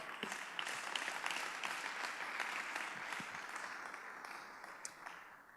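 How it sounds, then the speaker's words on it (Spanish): Sustained applause from a church congregation after a sermon on scripture, a steady dense wash of clapping at moderate distance that holds evenly and slowly thins toward the end. "Dale un fuerte aplauso"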